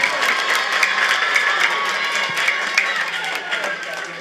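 A crowd claps for a headmaster honoured at a school award ceremony, dense, lively applause with a few sharper individual claps standing out, holding steady at a moderate level.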